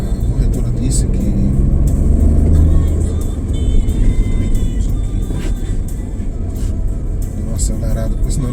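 A car accelerates on a road, its engine rumble and road noise steady and close throughout, with brief rising tones, while a person talks over it.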